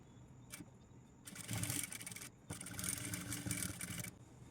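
A sewing machine stitching a fall onto a golden saree: two sustained runs of fast, steady whirring stitching, each about a second long, separated by brief pauses, close and fairly quiet.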